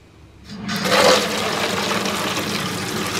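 Water gushes steadily into a pot, rising quickly and then holding a loud, even rush as the pot fills, with jars laid down to be submerged for soaking off their labels.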